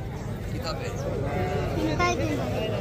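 Sheep bleat among a crowd at a livestock market where goats and sheep are traded, with several wavering calls rising over continuous nearby talk and busy background noise.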